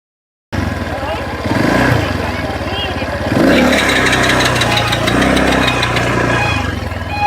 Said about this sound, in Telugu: ఏటీవీ రైడ్స్ చేయబోతున్నాం